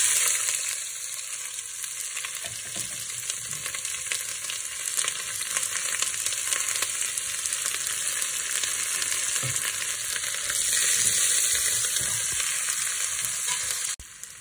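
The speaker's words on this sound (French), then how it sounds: "Donc je vais mettre un peu d'huile. Ajouter nos oignons déjà émincés." Sliced onions go into hot oil for a beef roast and fry with a loud, continuous sizzle that holds steady for over ten seconds, with occasional stirring scrapes and no voices.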